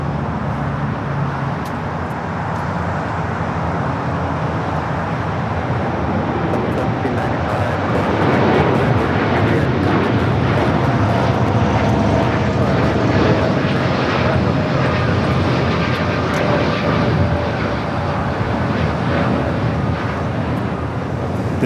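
An American Airlines jet taking off at LAX, a loud, steady engine roar that builds around the middle and holds strong to the end, with faint traffic hum beneath.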